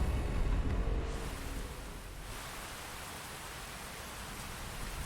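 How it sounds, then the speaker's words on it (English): Steady rain falls during a fight in the mech strategy game Phantom Brigade, a dense, even hiss that is slightly louder at the start and then settles into a constant wash with no voices. "I also love that it's been raining on all of these fights"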